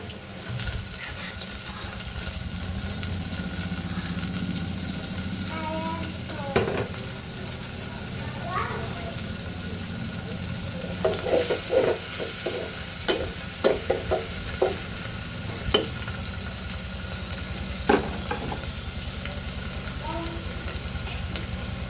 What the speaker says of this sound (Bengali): আমি এই পেঁয়াজ কাঁচামরিচের সঙ্গে দেশি চিংড়িটাও ভেজে নিব।